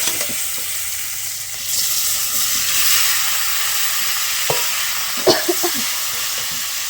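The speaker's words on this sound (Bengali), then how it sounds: "এই যে তেলে ওই আলু ফুলকপিটা একটু ভাজে নেব।" Potato and cauliflower pieces frying in hot oil produce a constant close hiss and sizzle, with a few brief clicks and knocks toward the end and no voices.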